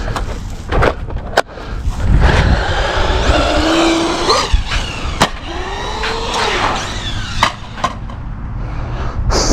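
A Traxxas Mini Maxx RC truck races and revs, its small electric motor whining up and down in pitch, with sharp clacks and thumps from jumps and landings, loud and close throughout.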